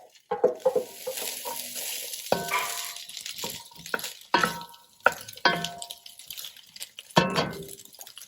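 Vegetables and sliced corn on the cob sauté and blister in a pan, a soft steady sizzle broken by repeated stirring scrapes and light clatters, close by with no talking.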